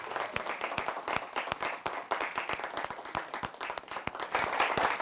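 Clapping welcomes poet Popular Meerthi to the stage at a live kavi sammelan. Sharp individual claps stand out in an uneven, moderately sized round of applause that swells slightly toward the end, with no speech over it.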